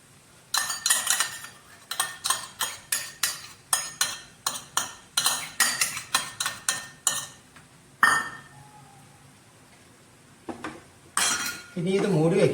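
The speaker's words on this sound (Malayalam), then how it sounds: "ഇനി നമ്മൾ എടുത്തു വെച്ച 2 മുട്ട അത് ബീറ്റ് ചെയ്ത് ഇതിലോട്ട് ആഡ് ചെയ്യാം" Two eggs are whisked in a bowl with a utensil, giving a run of quick, rhythmic clinking strokes in bursts that pause and resume. Near the end the beating gives way to a brief pan clatter.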